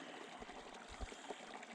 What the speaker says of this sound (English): the amount of water flowing in through here is all headed for Otter Pond